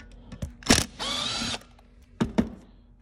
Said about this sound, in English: So what I'll do here first is just take off the T20 screws.